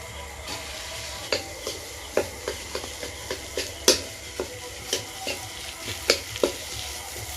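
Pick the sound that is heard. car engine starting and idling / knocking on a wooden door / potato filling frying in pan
potato filling frying in pan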